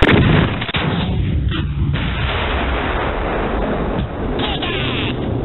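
Sustained gunfire, dense and continuous like artillery or heavy weapons fire, with a sharp burst near the start and rumbling, booming reports throughout at steady loudness.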